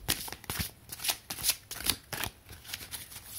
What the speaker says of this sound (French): comme les cartes sont glacées, elles se mélangent super bien